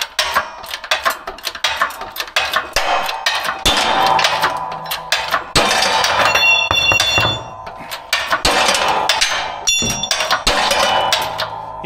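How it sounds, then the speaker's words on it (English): A 20-ton hydraulic press forces wheel studs out of a brake rotor hub on a Duramax dually, giving loud repeated metallic bangs and clinks with sharp ringing cracks throughout. "now we're over here in a 20 ton hydraulic press, and we have to start pressing our studs out to get our rotor off the hub"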